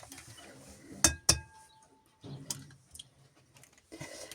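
Eggs being cracked into a bowl while making a quick cake: two sharp clinks of shell against the rim close together, then softer taps, scrapes and small handling sounds in a quiet kitchen.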